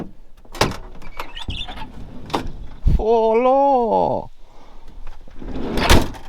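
Van door latch locking and unlocking in a few sharp clunks, then the door slammed shut with a solid bang; a loud mechanical whirring sweeps through the middle, and a voice speaks briefly.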